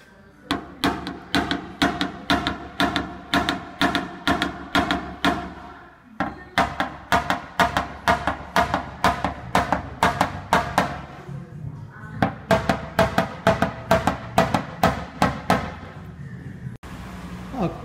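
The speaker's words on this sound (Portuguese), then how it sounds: "vou continuar rebatendo aqui com martelinho de borracha, igualando, né, os vergões da lata" Rapid bursts of sharp rubber mallet taps on thin car body sheet metal, in quick rhythmic runs with short pauses, close and fairly loud.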